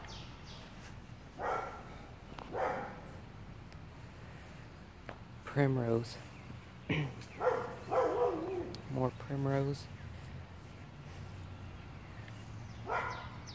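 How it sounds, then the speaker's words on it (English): A dog barks intermittently in the background of an early-June garden, several short sharp barks and yips spread across the scene, while a person talks quietly nearby. "Again, I apologize for the dog in the background."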